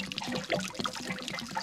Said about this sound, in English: So to drain it, all I do is I put the hose back on and I open up the other end, let it drip out.